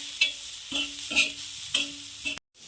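Chillies are mixed and pressed with salt, producing about four rhythmic scraping strokes close up with a faint sizzle-like hiss between them, then a sudden cut near the end.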